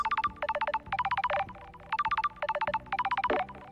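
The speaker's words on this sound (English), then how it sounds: "A phone call from Judge is unexpected." Paradise Killer's in-game phone ringtone: bright electronic trills in rapid bursts, repeating several times in a regular pattern, loud and clear with no talking.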